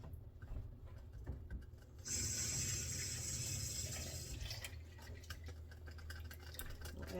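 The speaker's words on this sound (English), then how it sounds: "I'm going to add a little water just to rinse this." Tap water pours into a dyeing container to rinse it, a quiet handling start giving way to a steady splashing fill for about two seconds, then trickles and small knocks as it settles.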